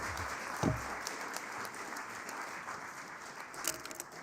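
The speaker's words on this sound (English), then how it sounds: "Everyone, give a round of applause." A luncheon audience claps for a guest speaker, a fairly quiet, steady patter of applause with a few brief louder knocks and a short voice sound near the start.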